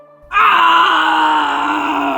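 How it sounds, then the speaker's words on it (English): A sudden loud human scream cuts in after a brief silence and holds as a sustained, strained cry for about two seconds. "A sudden scream shattered the silence."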